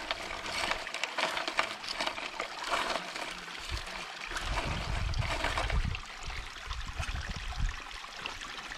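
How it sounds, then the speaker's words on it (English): Water runs through a gold prospecting sluice in the Scottish hills, a soft continuous trickle and gurgle with some low sloshing and splashes partway through, fairly quiet and close. "Not getting quite as much water flow this time."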